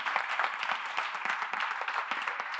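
Audience applause at a talk event, a steady dense patter of many hands clapping together, moderately distant and sustained throughout without voices.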